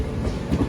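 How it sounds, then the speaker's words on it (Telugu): Train running on a parallel track near Yelahanka Junction, heard as a continuous low rumble with faint rail clatter, steady and fairly loud without talk. "చూడండి ప్యారలర్ రన్ అవుతుంది ట్రైన్."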